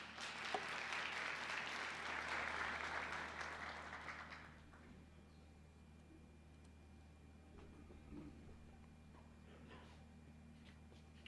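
Applause at a formal ceremony greets a speaker as he is called to the podium, with dense clapping for about four seconds that then cuts off into a quiet room with only faint scattered noises.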